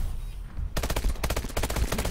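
Video game gunfire in a search-and-destroy match, a sniper rifle shot among it: silence gives way to a loud, dense barrage of sharp cracks and rapid bursts that continues without letup.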